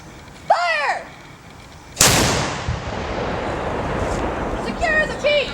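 A historic cannon fires at the Yorktown battlefield site, one loud sharp boom followed by a long rolling echo that fades slowly, with shouted commands heard before the shot and birdsong around it.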